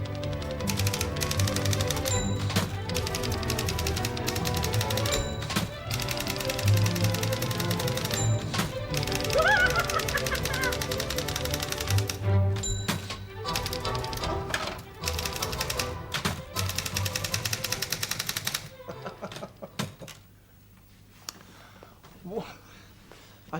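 Typewriter keys clatter in fast rhythmic bursts, a children's television presenter pecking with two fingers in time to a song, with music running underneath and a carriage bell ringing now and then before the sound drops away near the end.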